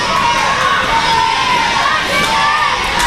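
A wrestling show crowd in Canton, Texas, cheers loudly and steadily, with high shouting voices, many of them children, blended into a dense roar that never lets up.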